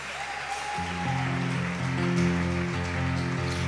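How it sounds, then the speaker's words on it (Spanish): A church congregation claps in praise, a steady rain-like patter of many hands that rises and holds, over sustained keyboard chords. "Dale un aplauso al Señor"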